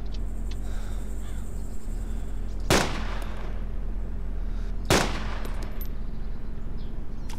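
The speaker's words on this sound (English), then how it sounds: "I'm taking shots from someone" Two sharp, loud gunshots ring out a couple of seconds apart in the game Arma 2, each with a short echoing tail over a steady background of insect-like buzzing and low ambient hum.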